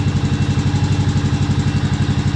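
A ride-on lawn tractor engine, freshly started after being seized, runs steadily at a close, loud idle with a rapid pulsing chug and a faint clatter throughout.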